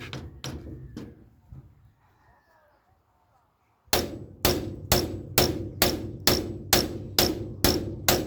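Metal hammer blows strike a Mahindra 575 DI tractor part: a few scattered hits, a short near-silent pause, then a steady run of about nine loud, evenly spaced ringing strikes close by.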